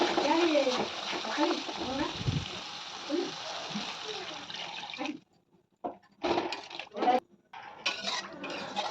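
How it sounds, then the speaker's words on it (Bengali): Water poured into a simmering poppy seed paste in a pan for rohu fish posto gives a rushing, splashing pour under steady talk for about five seconds, followed by quieter gaps and short bursts of pan noise. "এই পর্যায়ে আমি জলটা ঢেলে দেবো"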